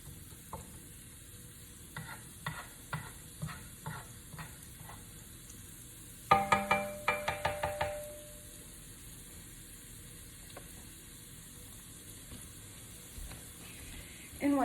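Onion cooking in a pan for cauliflower chicken fried rice, with a steady soft sizzle under a run of clinking stirs that briefly grow louder and busier midway, then settle back to quiet frying.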